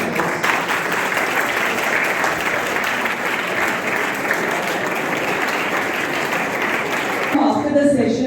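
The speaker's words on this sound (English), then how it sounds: "Let us welcome our guest speaker with a huge round of applause." A school audience in Panjim, Goa gives a guest speaker a sustained round of applause, with dense close clapping that continues steadily until a voice speaks at the very end.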